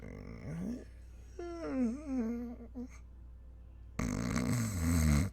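A voice imitates a woman's loud, unladylike snoring with drawn-out, rasping, wavering snorts in several uneven bursts, the last one harsher and louder.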